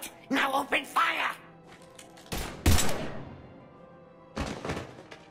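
Gunfire in the video game Mass Effect 3, heavy thumping shots in short bursts with loud impacts, following game character dialogue.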